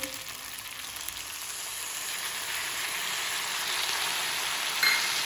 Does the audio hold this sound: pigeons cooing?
no